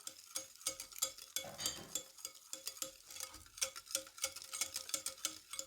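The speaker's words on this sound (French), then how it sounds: "Et on va mélanger la crème fraîche." Crème fraîche being stirred in a bowl with a utensil, a quiet run of rapid clicking, scraping taps in steady rhythm, close and faint with no talking.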